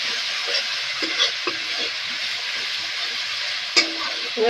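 Potatoes frying with Kashmiri chilli powder, giving a loud, dense and steady sizzle with a few faint scraping stirs and one sharper clink of the utensil against the pan.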